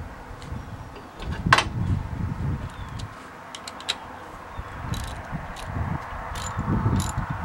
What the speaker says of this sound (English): Okay, so put the belt on. I tighten it up a little bit.